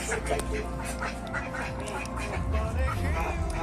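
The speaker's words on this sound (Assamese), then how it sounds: "শুনিছেনে আপোনালোকে হাঁহ চাউণ্ডটো" A duck quacks repeatedly in a home setting during a Magh Bihu festival vlog, with a person talking over the calls nearby.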